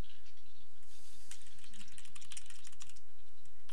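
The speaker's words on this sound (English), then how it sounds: "God, she types fast in this mode." Rapid clicky keystrokes of a Sim typing on a computer in The Sims 3, a busy stream of soft taps at steady close range with brief pauses, over faint game ambience.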